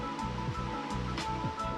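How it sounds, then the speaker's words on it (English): Steady rushing water at Helton Creek Falls in North Georgia, a continuous broadband wash close by with a few brief splashing surges. "Dad thought this was the waterfall."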